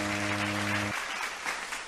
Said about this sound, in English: Wait a minute, okay, the obligatory applause.